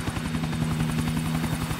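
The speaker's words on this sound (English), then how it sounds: "The helicopter's actually still alive!" A helicopter in the video game GTA IV whirs steadily with a fast, pulsing rotor chop and a constant engine hum, loud and close throughout.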